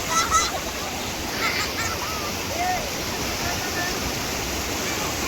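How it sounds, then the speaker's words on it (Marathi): A forceful stream in Konkan rushes steadily as a dense, continuous wash of water, with people's voices faintly mixed in. "पाणी एकदम जोरदार आहे आमचा."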